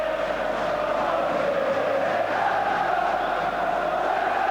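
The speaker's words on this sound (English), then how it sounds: "There's quite a crowd here at Villa Park today." A football crowd at Villa Park stadium during a cup final between Arsenal and Manchester United, a dense, steady roar of many voices that fills the ground at a constant loud level.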